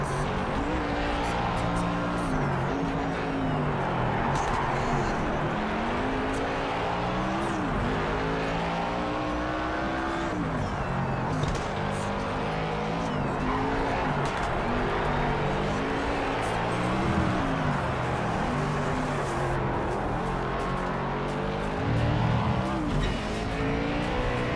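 Race cars in Project Cars 3 roar continuously at close range, engines revving and shifting through gears with rising and falling pitch, tires squealing at times, loud and unbroken for the whole stretch.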